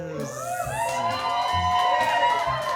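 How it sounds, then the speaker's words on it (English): A rowdy crowd at a live jazz cabaret show cheers and whoops loudly throughout, with a sustained musical tone running underneath the noisy hall. "Oh, it's a rowdy crowd tonight."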